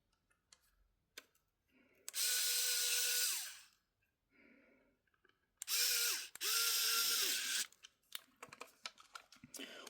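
An electric screwdriver whirring in two long, loud bursts as it drives screws into an HP Chromebook 11 G9 Education Edition laptop, with small clicks and handling noises between and after.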